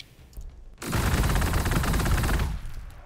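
A sustained burst of rapid automatic gunfire in the video game Warhammer 40,000: Gladius rattles for about two seconds, loud and dense, then cuts off.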